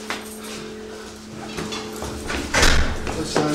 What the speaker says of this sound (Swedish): Jonas Lind har precis öppnat dörren till sin lägenhet.